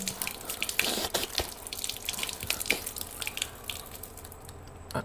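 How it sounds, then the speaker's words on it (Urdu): Tap water runs steadily into cupped hands and is drawn into the nose during wudu ablution at a sink, with splashes and drips over a continuous gushing stream. "3 مرتبہ ناک کے نرم ہڈی تک پانی ڈالنا"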